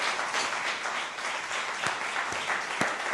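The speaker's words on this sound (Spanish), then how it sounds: "eso se merece un aplauso" A church congregation applauds during a sermon. Steady, moderately faint clapping from many hands fills the whole stretch as a continuous wash of sound.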